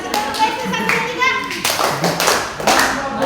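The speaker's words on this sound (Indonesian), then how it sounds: "Kasih tepuk Besti satu tiga." An audience claps in a training session for bank clients, the sharp hand claps coming in uneven bursts mixed with voices and chatter throughout.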